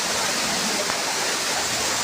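Ramboda Falls in Sri Lanka, running low on water, gives a loud, steady rush of falling water that fills the whole short stretch without a break.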